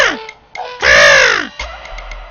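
A cartoon crow caws once, loud and close: one long, harsh, drawn-out call between quieter animated sounds.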